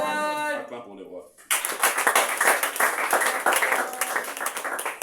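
A church congregation claps together in a sustained burst of applause, dense and loud, after a sung or spoken voice line ends; the clapping continues steadily to the close.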